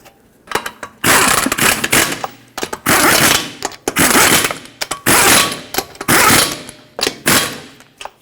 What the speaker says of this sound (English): And now start in all 5 of your lug nuts.